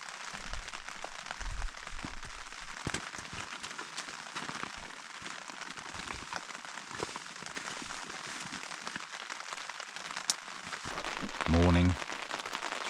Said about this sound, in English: Morning, it's raining,